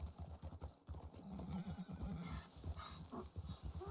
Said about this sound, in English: Will your donkey be able to keep up? I don't know what all he's doing is screaming.